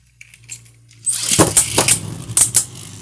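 Metallic clattering and scraping begin after a quiet moment, with several sharp clashing hits as Beyblade Burst spinning tops collide in a stadium, busy and close.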